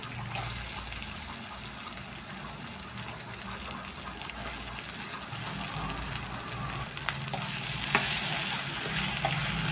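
Okra (ladies finger) fries in a pan with onion and tomato, giving a steady close sizzle with occasional stirring scrapes that grows somewhat louder toward the end.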